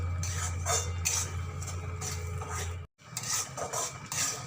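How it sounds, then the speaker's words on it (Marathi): Semolina roasting in ghee in a pan for sweet prasad sheera, with repeated scraping and stirring scrapes of a utensil against the metal pan, steady and close, broken by one brief pause. "आता त्यामध्ये हे रवा आता एक ते दोन मिनिटासाठी हे रवा भाजून घ्यायचा"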